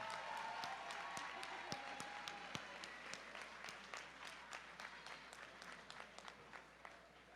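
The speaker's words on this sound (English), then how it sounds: "How about a nice round of applause for these two great fighters" Crowd applause at a cage fight after an opening match, with scattered sharp claps and cheers over a steady roar that thins out toward the end; a faint voice briefly rises at the start.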